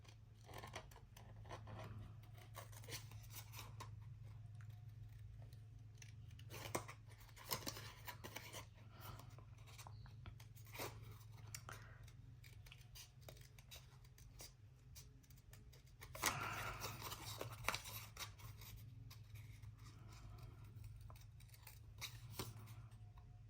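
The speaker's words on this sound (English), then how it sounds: "when I fussy cut, I try and turn my paper rather than my scissors" Scissors snip through cardstock and patterned paper during fussy cutting for a monochrome stamped card, with quiet, irregular close-up clicks and rustles scattered across a low steady hum.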